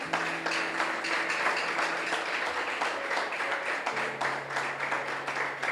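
A church congregation applauds loudly and steadily throughout, a thick wash of clapping with sustained organ-like tones underneath.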